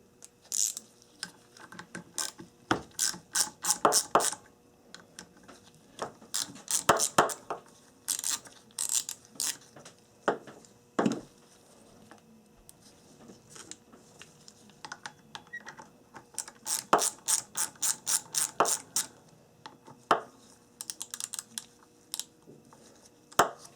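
A ratchet loosens two 10mm bolts on the ABS unit of a 1994–1997 Honda Accord, producing close, rapid clicking bursts in several runs with short pauses between them.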